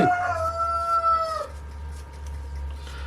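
A rooster crows nearby, a loud drawn-out call that fades after about a second and a half, over a steady low hum, while Easter eggs are being dyed with natural colours.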